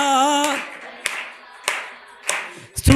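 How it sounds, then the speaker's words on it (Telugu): Congregation clapping in a church service, a few sharp claps spaced through the clip after a sung note, with some voices around them, moderately loud. "చప్పట్లు కొడితే హావభావాలు కదలాలి"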